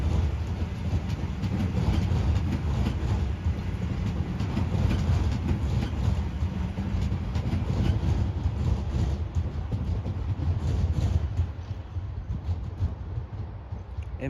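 A passenger train runs steadily along the rails, a continuous rumbling roar with faint clickety-clack from the cars, heard from trackside for the whole stretch and easing slightly toward the end.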